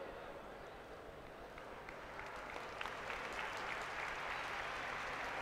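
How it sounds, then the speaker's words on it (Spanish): Spectators at a Lucha Leonesa team league final applaud for Teresa, an injured wrestler, a broad steady wash of clapping that swells slightly louder partway through, with some crowd noise underneath. "ese aplauso para Teresa,"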